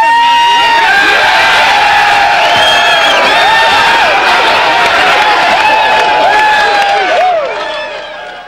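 Large stadium crowd at a Michigan college football game roaring and cheering loudly and continuously, with whoops and shouts layered throughout, fading slightly at the end.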